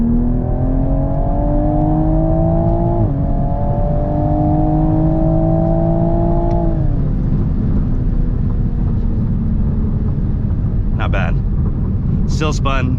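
A 2020 Toyota Supra A90 makes a launch-mode start with wheelspin: a loud, close engine drone whose pitch climbs, dips at each gear change, then falls away under road and wind noise, with voices talking over it.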